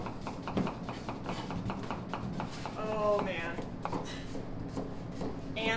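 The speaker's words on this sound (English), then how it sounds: "All this fast chopping is making people nervous." Rapid, rhythmic knife chopping on a board, several blades going at once, with people talking and exclaiming over it.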